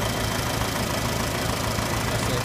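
A 1956 Farmall Cub tractor engine idles steadily after a cold start with no choke, a continuous even chugging rumble close by with no talk over it.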